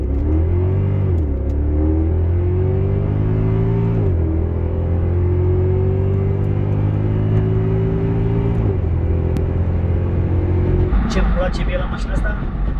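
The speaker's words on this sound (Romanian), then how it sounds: "The Sound V8." A 2018 Mercedes V8 engine rumbles loudly up close, its pitch climbing and dropping through several rising revs before a brief clatter near the end.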